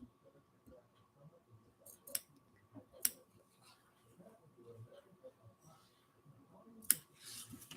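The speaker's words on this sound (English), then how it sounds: "here we got to clip in, try not to cut through your stitches" Scissors clip into a fabric seam allowance with a few sharp, quiet snips spaced a second or more apart, under soft talking.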